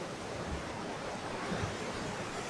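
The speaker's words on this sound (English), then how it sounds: "Out at sea, crashing waves." Ocean waves crashing at St Ives, Cornwall, heard as a broad continuous wash of surf with a slight swell midway, steady and moderately faint, no voices.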